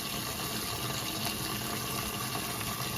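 Water running from a tap into a pot on the stove for heating canning lids, a steady broad rushing that fills the whole clip with no voice over it.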